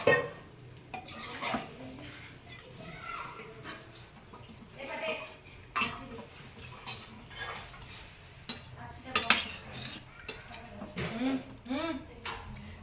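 Mutton curry gravy stirred in a pot with a metal spoon, irregular scraping and clinking knocks against the pot sides at uneven intervals, close and fairly quiet, with voices talking in between and a dog whimpering faintly.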